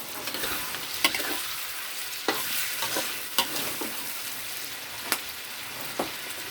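Spicy catfish stir-fry with pickled bamboo shoots crackles in a hot pan as sauce goes in, a steady close sizzle broken by sharp spatula scrapes and clacks roughly every second, with no voices.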